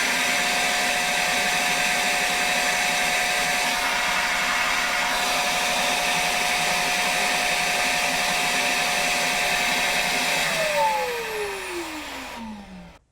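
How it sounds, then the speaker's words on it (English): A Milwaukee M18 Fuel 6 gallon cordless wet dry vacuum runs with a loud steady whine and whooshing airflow, then shuts off, its tone falling away as the motor spins down near the end. "let's see how many inches of mercury this vacuum is able to develop"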